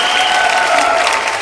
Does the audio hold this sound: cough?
no